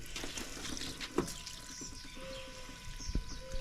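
Hose water pours and trickles into the cooling system of a Suzuki Grand Vitara during a thermostat repair, a soft steady splashing dribble with a brief louder splash near the end, close by and alone.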